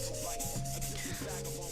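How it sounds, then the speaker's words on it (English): Very fine sandpaper rubbing rust off the side of a sword blade, steady scratchy back-and-forth strokes at close range, soft and continuous with a faint hum behind, no voices. "So, let's start sanding."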